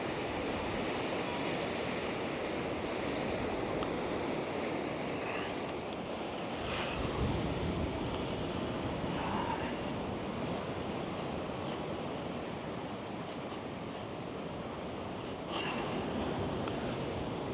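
Surf breaks steadily against dark rocks on a beach, a dense continuous roar of water with wind noise mixed in, loud and close throughout with no voices.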